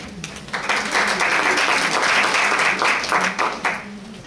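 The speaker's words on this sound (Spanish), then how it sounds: "Entonces le damos la bienvenida a la profesora Dora con un aplauso," An audience applauds to welcome a speaker at a talk, a burst of clapping that swells after a brief lead-in and holds steadily for several seconds before tapering off.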